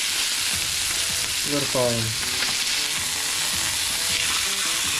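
Chicken pieces fry in a pan with a steady, loud sizzle throughout, and a few clacks and scrapes are heard as the chicken is turned with tongs.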